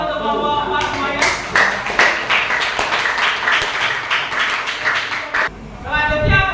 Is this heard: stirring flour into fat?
no